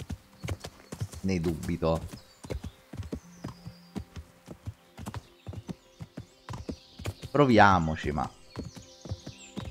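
Horse hooves clip-clop in the medieval video game Kingdom Come: Deliverance, sharp irregular hoofbeats throughout with occasional horse snorts and whinnies, while someone speaks Italian over them in two bursts.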